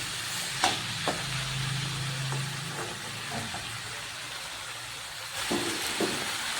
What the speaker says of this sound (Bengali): এবারে যে কষানো চলছে কষিয়ে কষিয়ে এটাকে মজিয়ে দেবো পুরো